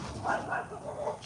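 Two small dogs barking outdoors, a few quick muffled barks in a short burst, moderately loud and mixed with background noise.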